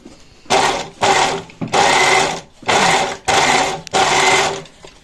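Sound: overlocker serging the hem of jeans

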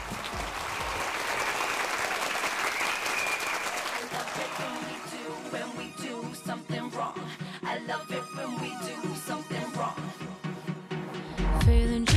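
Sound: audience applause welcoming a singer

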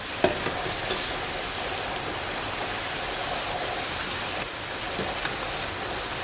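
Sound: onion bhaji frying in hot oil on a wood-fired stove

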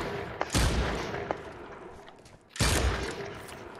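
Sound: gunshots in Dead Island 2 (video game)

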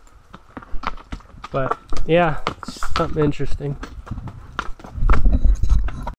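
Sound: horse hooves clip-clopping on trail

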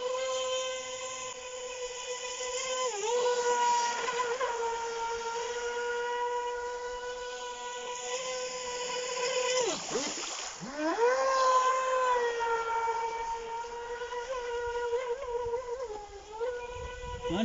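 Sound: Feilun FT011 RC speedboat running on 4S lipo

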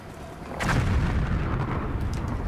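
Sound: artillery bombardment in video game Call of Duty Black Ops

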